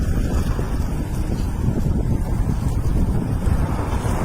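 Strong wind gusting steadily around an outdoor spot with light flower pots, a loud continuous roar and buffeting across the whole stretch, with no talk.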